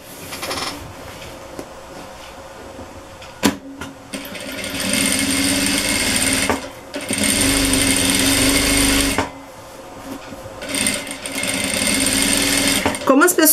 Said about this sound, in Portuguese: Então, eu vou fazer uma costura pé de máquina aqui.